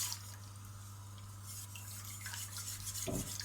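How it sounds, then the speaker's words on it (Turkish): A spoon stirs steadily through a pot of hot yogurt soup with lentils and bulgur. The stirring makes a continuous wet swishing with faint scraping, heard close over a constant low hum, ending in a brief thump. "Kaynayana kadar karıştıracağım."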